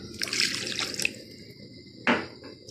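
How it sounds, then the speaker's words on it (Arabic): Water from a cup poured onto butter in a pan, melting it without burning: a short splashy trickle and drips early on, then a sharp sizzling burst near the end, moderately loud with no talk. "انا عندي هنا زبدة هنزل عليها بكوباية مية"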